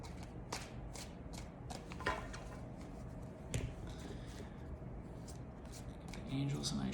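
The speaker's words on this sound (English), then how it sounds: "One more shuffle here." Tarot cards being shuffled by hand give a run of quiet, sharp flicks and riffles, close and soft in a calm room, with a light rustle at the end.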